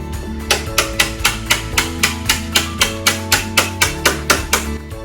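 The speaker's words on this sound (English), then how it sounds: "Instead of using a router, this is quite hard timber, so we've gone for the saw cuts and the chisel." A mallet drives a chisel into hard timber to clean out saw cuts for a TV cabinet, giving a steady run of about eighteen sharp, loud, evenly spaced strikes up close, with background music underneath.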